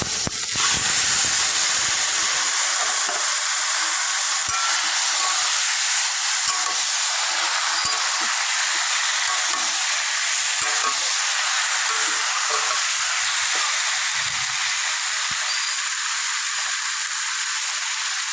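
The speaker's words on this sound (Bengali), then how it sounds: "কাঁচা লঙ্কা, সিদ্ধ করা কচু শাকটা দিয়ে দেবো।" Boiled taro greens and green chillies hitting a hot pan give off a loud, steady hiss of steam and frying, continuous and close, with faint stirring scrapes underneath.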